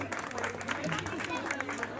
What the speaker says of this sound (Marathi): टाळ्या वाजवा सगळे जरा।